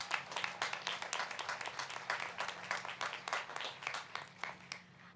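Audience applause at a spring graduation ceremony of a technical college, a steady wash of many hands clapping that runs on for several seconds and thins out toward the end.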